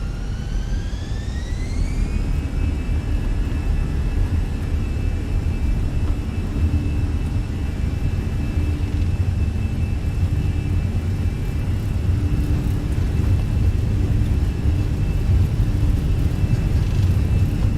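Airbus A320 jet engines in the Fenix A320 flight simulator spool up to takeoff thrust for departure from Las Vegas, a steady loud roar with a rising whine that settles into a sustained tone, no voices.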